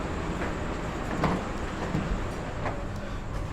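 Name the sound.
inside Progo economy train carriage, Indonesia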